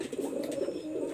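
Pigeon cooing in a low, rolling, continuous murmur of a breeding pigeon about to lay eggs, kept in a Daulatpur, Khulna loft; steady, close and moderately loud, with no talking.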